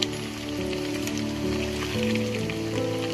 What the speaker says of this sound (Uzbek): Yog'lari ham jizzadek bo'lib qovurilyapti.